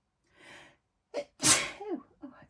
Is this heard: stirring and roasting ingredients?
no